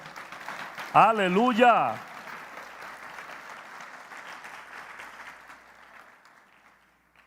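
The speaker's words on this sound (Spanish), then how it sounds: "Alguien le puede dar un aplauso al Señor." A church congregation applauds during a Spanish-language worship service in Tunja, Colombia, soft scattered clapping under a preacher's voice and a brief sung exclamation, fading out toward the end.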